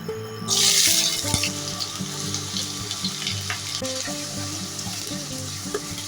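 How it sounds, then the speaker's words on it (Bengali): Chopped onion sizzles loudly in hot mustard oil in a pan, with a burst of spitting as it goes in, then a steady crackling fry with brief stirring scrapes and no talk. "এরপর দিয়ে দিচ্ছি পেঁয়াজ কুচি"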